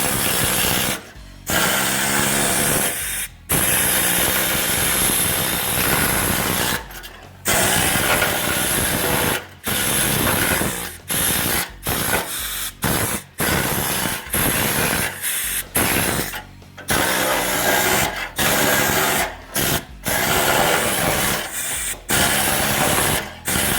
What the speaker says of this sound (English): And it takes off the filler, or the undercoating.